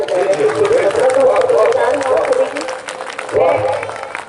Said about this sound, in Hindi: एक बार जोरदार तालियां बजा के